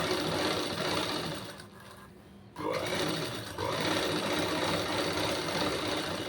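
A sewing machine stitching a neck lining runs with a close, steady motor whir. It slows and drops away for a moment, then starts again and keeps going. No one speaks.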